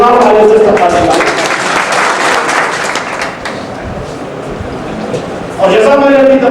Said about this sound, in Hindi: जोरदार ताली से इस्तकबाल कीजिए।